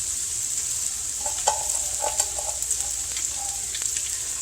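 Day-old cooked rice frying in a pan gives a steady, close sizzle with soft scraping and stirring clicks over it, and no voices.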